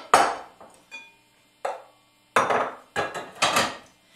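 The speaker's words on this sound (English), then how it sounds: "I'm going to move my other dishes out of the way real quick." Dishes being shoved aside on a kitchen counter during home baking: a handful of sharp clatters and knocks, close by, spaced irregularly with quiet gaps between them.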